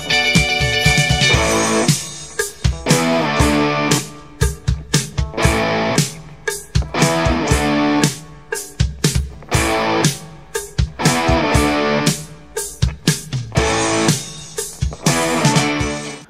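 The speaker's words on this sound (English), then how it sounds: "then you got that super overdriven 70s rock sound" Overdriven electric guitar with a gritty 70s rock tone plays a rhythmic riff of chopped, punchy chords and short gaps, loud and close, in a classic 70s rock style.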